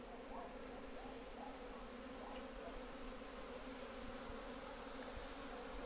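Honeybees flying around their hives on a winter midday in Poltava region, a steady soft buzzing hum from many insects that fills the whole clip at low level, with no talk over it.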